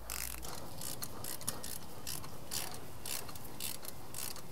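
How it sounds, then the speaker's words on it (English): A ratchet loosens the transfer case mount bolts on a Cummins truck with a 47RE/48RE transmission, giving a steady run of close, rapid clicking pawl strokes in a tight space beneath the cab, without talk. "It's kind of tight with the cab, so ratchet here."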